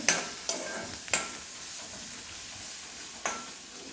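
Chopped medium onion frying in a pan makes a steady soft sizzle, punctuated by four sharp spatula knocks against the pan, close and unaccompanied by speech.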